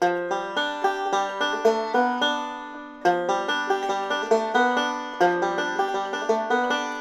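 Bright plucked bluegrass banjo notes ripple in quick, even forward rolls from Salt Creek, repeating phrase after phrase with a clear, twangy attack, played solo and close.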